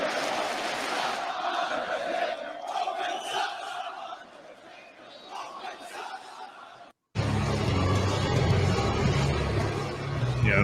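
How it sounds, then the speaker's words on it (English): A wrestling arena crowd cheers and roars loudly, a dense wall of yelling voices that dips briefly, then cuts out for an instant before returning even louder and fuller. "I think the crowd gets louder."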